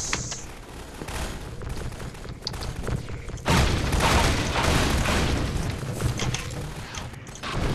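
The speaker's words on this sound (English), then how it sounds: "There's gunfire everywhere" Dense, loud gunfire rattles on and off in a Half-Life 2 firefight, swelling into a heavier, continuous barrage of bursts and booms partway through, with no voices standing out.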